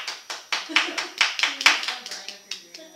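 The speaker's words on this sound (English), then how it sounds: "And then applause, yeah." Sparse, uneven hand claps from a small group, about a dozen distinct claps over a few seconds, fairly close and moderately loud, with faint background voices.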